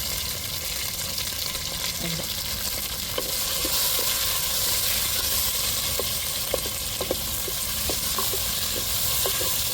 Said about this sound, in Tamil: இஞ்சி பூண்டை வதக்கி விட்டுக்கிடுவோம்